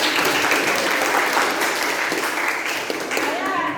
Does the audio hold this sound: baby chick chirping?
no